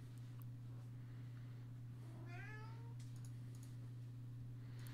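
A house cat meows once in a rising, drawn-out call, fairly close, over a constant low electrical hum in an indoor room.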